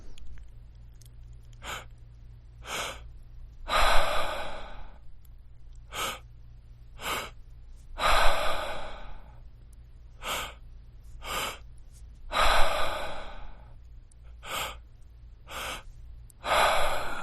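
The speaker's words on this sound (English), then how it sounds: "It will be 5 minutes of active breathing and 2 minutes of relaxation." Active breathing during a meditation exercise: a steady rhythm of sharp inhales and exhales, several deep, louder breaths standing out among quicker ones, close and alone with no talk.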